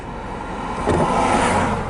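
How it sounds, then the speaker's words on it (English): A car passes on a desert road near Chloride, Arizona, its engine noise swelling briefly and then holding steady as it goes by close, under a constant low rumble. "Got a car coming up on us, so we're going to let him go by."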